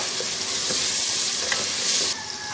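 Chicken pasta ingredients are stirred in a pan over a lowered flame, giving a continuous close sizzle with spatula scraping and occasional clinks, with no talking.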